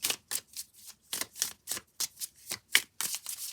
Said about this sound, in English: Let's go ahead and get these shuffled.